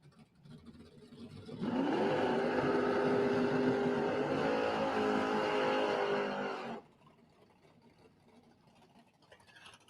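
A gray Dodge Dakota pickup truck in a Pro ET drag racing final at Gainesville Raceways gives one loud, sustained engine roar that climbs in pitch for about five seconds, then cuts off abruptly, leaving a quiet background with no talk.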